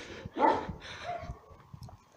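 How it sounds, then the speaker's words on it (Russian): A large Alabai dog near a glass-walled house gives a couple of deep, loud barks close by, followed by quieter sounds in the background. "Огромная собака."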